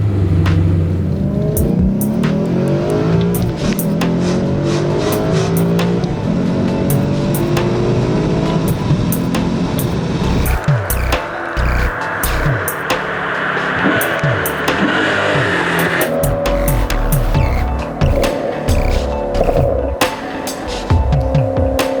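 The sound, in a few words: Maserati GranSport factory exhaust with secondary cat deletes revving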